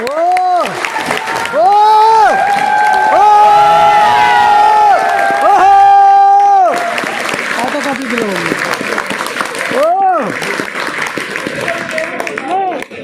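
A seminar audience in Kolkata stands and breaks into sustained loud applause with cheering and whoops. Clapping dominates for several seconds while a voice carries over the crowd noise.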